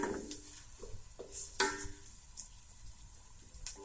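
Tomatoes and green chillies cooking in a masala paste for aloo pulao, with a low, quiet sizzle and a few soft scrapes and taps of a spoon stirring the pan.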